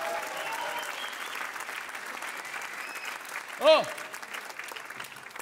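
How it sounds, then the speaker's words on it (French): Spontaneous applause breaks out from the audience at a live stage show, a continuous wash of clapping that fades slowly. A single voice lets out a brief exclamation partway through. "applaudissements spontanés"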